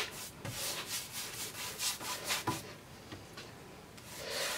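Wood stain is rubbed onto a raw timber shelf with a cloth, making close, rhythmic swishing strokes in quick succession, then a brief softer lull before the rubbing picks up again.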